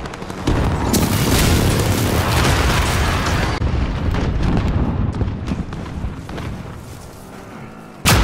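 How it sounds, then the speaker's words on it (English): A cruise missile blast in Call of Duty: Modern Warfare (2019) Ground War booms loudly, then a sustained roaring rumble with crackling debris fades slowly before another sharp burst at the end. "Cruise missile, go for launch."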